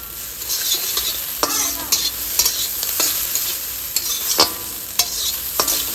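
Pumpkin peel frying in oil in a pan, a steady close sizzle broken by sharp stirring scrapes and clinks, with no talking.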